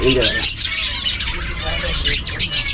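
Small pet finches in a cage give rapid, high chirps and tweets close by, repeating throughout while people talk nearby.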